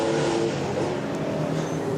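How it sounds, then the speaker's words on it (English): Air-cooled Porsche 911 flat-six race car at a classic 24-hour endurance race, a steady loud engine drone with harmonic bands, running continuously throughout with no talk. "nothing like that iconic flat six sound of a Porsche air-cooled engine"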